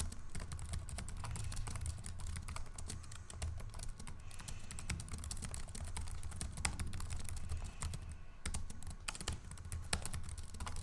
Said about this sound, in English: Here is a typing test of the Yoga Slim 7 Pro.